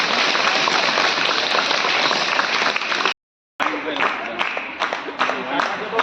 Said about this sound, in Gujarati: પ્રદર્શન કરે છે. જોરદાર તાળીઓથી વધાવીએ.